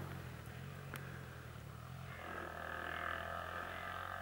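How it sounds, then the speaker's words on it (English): A motorbike running near a reservoir on a countryside walk, a distant steady engine drone that swells louder in the second half over faint outdoor ambience. "Unfortunately, some loud motorbike noise from near the reservoir in my soundtrack."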